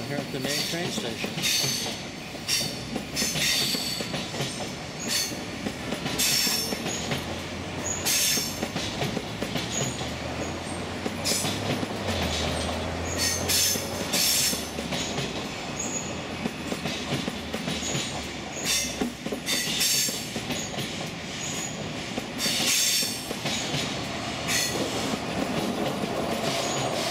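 Trains move through Basel's main railway station with a continuous heavy rumble, rhythmic clickety-clack over rail joints and repeated high wheel squeals, with occasional brief speech in the background.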